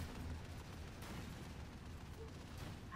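Dense, continuous gunfire from turrets in Lethal Company, loud and sustained across the whole span with a thick low rumble and no clear gaps between shots.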